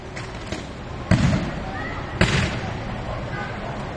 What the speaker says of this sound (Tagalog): Sunod-sunod ang pagputok ng kawad sa poste ng kuryente.